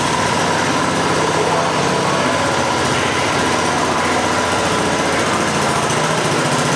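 A Cub Cadet garden tractor engine runs steadily and loud at a tractor show, a continuous buzzing drone with no pauses and no talking.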